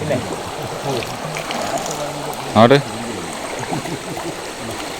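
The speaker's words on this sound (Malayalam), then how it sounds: "അത്യാവശ്യം നല്ല ഒഴുക്കുണ്ട് കേട്ടാണേ" Water rushes steadily along in a flowing stream while someone speaks a word, with a sharp splash midway.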